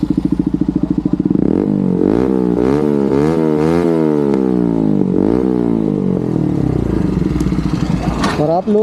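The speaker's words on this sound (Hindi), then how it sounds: "इसका भी मैं आपको एग्जॉस्ट का साउंड सुना देता हूँ" An NS motorcycle's exhaust blares up close, the engine revved hard several times in rising and falling sweeps after a brief burbling idle.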